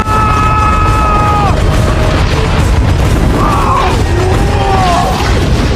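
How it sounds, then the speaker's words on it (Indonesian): Explosion of a bridge being blown up in a film scene: a loud, sustained boom and rumble fills the whole span, with crashing debris and tonal sweeping sounds layered over it. "Sementara si veteran berhasil meledakkan jembatan tersebut."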